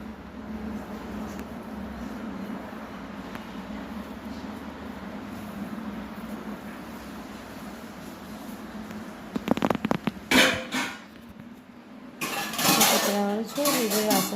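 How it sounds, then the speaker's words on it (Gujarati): Dishes, pots and cutlery being set in place in a home kitchen, a steady low hum for most of the span, then bursts of clattering metal and clinking near the end, with people talking. "બીજું વાસણ ગોઠવી દે."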